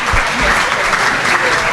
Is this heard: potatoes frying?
no